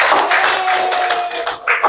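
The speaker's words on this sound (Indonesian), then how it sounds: "Oke, tepuk tangan." A classroom of students claps in applause for a correct answer, a short burst of dense hand clapping that briefly dips and then picks up again.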